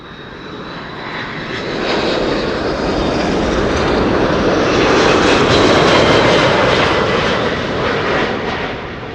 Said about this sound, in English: Delta Airlines Flight 56 coming in from Salt Lake City.